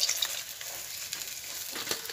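Japani puti fish frying in mustard oil in a kadai, a steady bright sizzle and crackle with a few sharper spits, close and continuous, no voices.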